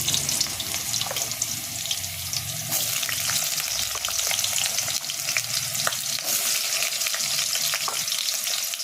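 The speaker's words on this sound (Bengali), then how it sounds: "আলুগুলোকে ভেজে নেব" Potatoes for Bengali-style ghugni fry in a pan of hot oil after the tempering spices, a steady loud sizzle with scraping stirs and occasional spoon knocks throughout.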